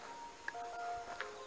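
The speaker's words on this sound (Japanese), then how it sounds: "今12時の鐘が鳴ってますね" A bell rings at twelve o'clock noon outdoors in the garden of a culture museum, two soft distant strikes with a lingering tone, alone with no talk.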